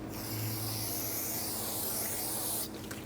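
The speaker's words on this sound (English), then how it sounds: "spray it down with some parts cleaner" Parts cleaner sprays in one continuous aerosol hiss onto a rear brake rotor from a 2003-2007 Honda Accord. The spray is close and steady for about two and a half seconds, then cuts off abruptly.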